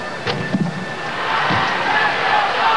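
An arena crowd at the 2000 men's US Olympic gymnastics trials swells into sustained cheering and roaring, building from scattered thuds and voices into a loud continuous wash of noise.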